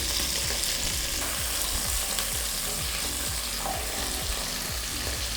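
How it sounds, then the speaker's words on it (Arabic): Crab and shrimp sizzling and frying in a pot for seafood soup, a loud continuous hiss with repeated stirring scrapes, close and without talk. "هننزل اول حاجه بالكابوريا، عليها بعد كده بالجمبري"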